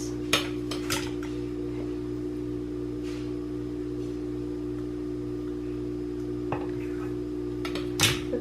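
A big knife cuts cinnamon roll dough for cupcakes, heard as a few scattered, crisp clinks of the blade against a hard surface over a steady low background hum.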